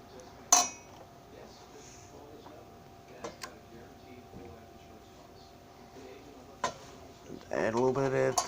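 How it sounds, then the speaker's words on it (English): A spoon stirs milk into a beaten egg mixture in a bowl, giving a few sharp clinks against the bowl over quiet background, and a voice comes in near the end. "Add a little bit at a time and stir it in."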